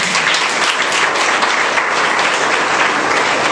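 A church congregation claps steadily and densely at a baby dedication service, with no gaps and no clear voices over it.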